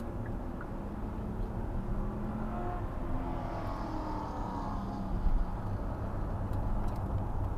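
A car at full throttle on a race track gives a steady, moderately loud engine drone with a rumbling low end, holding continuously with no talk.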